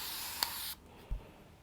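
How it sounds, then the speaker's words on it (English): Quick hissing burst of a spray mist bottle misting fabric during ironing, a short loud spritz that cuts off abruptly, followed by a soft low thud. "I'd like to use a little bit of spray mist on it too"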